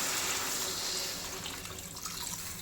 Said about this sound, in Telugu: ఇప్పుడు వాటర్ పోస్తానండి.